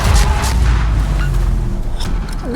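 Naval guns fire from a warship in the game World of Warships, giving a heavy, rumbling boom that fills the short clip and fades into a low roar, with no voices over it.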